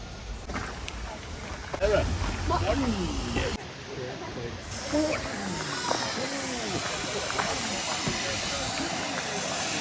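A steam engine at the Beamish open-air museum village hisses in a loud, continuous rush that swells partway through, while people talk close by.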